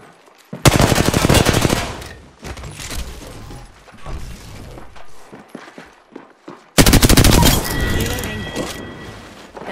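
Loud automatic gunfire from the Apex Legends battle game, two long rapid bursts at the start and near the end with scattered shots and game effects between, close and dominant.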